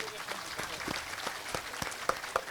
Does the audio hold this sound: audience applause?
yes